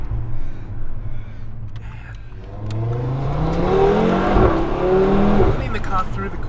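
An Audi TT RS sports car engine rises and falls in pitch as it accelerates and shifts through corners, loud and close, with tires faintly whirring and someone speaking over it.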